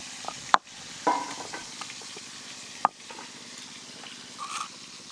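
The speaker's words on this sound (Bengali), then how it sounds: "কই মাছ কড়াতে দেওয়ার সাথে সাথে একবার করে উল্টে দেবেন, তাহলে ভাজার সময় কই মাছ আর বেঁকে যাবে না।" Koi fish sizzle steadily in oil in a pan, a soft continuous crackle broken by a few sharp clacks of a spatula or turning, with no talk.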